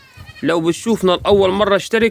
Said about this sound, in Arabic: معزتين جمال جدا